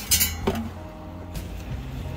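A baking pan clinks and clatters as it slides into a compact 24V travel oven, with a sharp metallic knock near the start, a second bump, then quieter scrapes and taps against a low steady hum.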